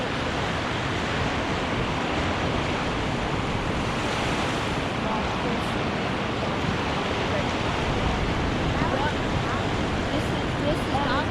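Ocean surf washes onto a beach at a sea turtle hatchling release, a loud, continuous roar of breaking waves with wind buffeting the microphone throughout.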